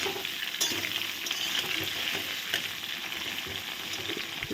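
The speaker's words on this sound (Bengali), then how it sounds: "ভালো করে এখন ফুলকপিটা আস্তে আস্তে ভেজে নেবো" Cauliflower fries in a pan with a continuous crackling sizzle, close and steady, broken by a few sharp stirring clicks, and no talking.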